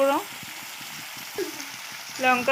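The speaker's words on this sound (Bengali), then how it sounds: "ফুলকপি আলুটা ফ্রাই করে নেব ভালো করে।" Cauliflower and potato frying in oil with turmeric, chili and cumin powders, a steady sizzle with scraping stirs, while a voice speaks briefly at the start and end over the hiss.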